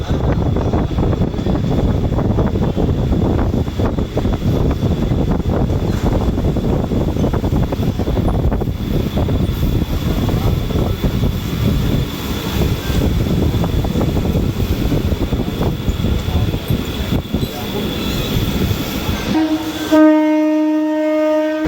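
A Krishak Special local train pulls out of platform 2 at Belgharia station bound for Sealdah, giving a loud, steady rumble and rushing noise that cuts off near the end into a brief electronic tone.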